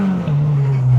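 A K24-swapped Honda mini-truck engine held on a homemade two-step launch limiter, a loud, steady revving drone lasting about a second with a slight dip in pitch partway through.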